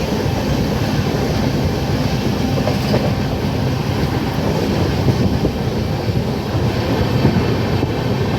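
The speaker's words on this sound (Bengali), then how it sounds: "ট্রেন কিন্তু দ্রুত গতিতে ছুটে চলেছে।" A fast-running train between Howrah and Puri, a loud continuous rumble with rhythmic clatter and wind buffeting the microphone, heard throughout.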